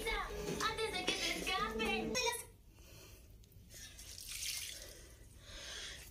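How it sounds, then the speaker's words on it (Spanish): Rice water is poured from a container onto potted houseplants indoors. Someone speaks briefly at the start, then soft, close trickling and dripping of water follows on its own. "Voy a poner un poquito de esa agüita a mis matas"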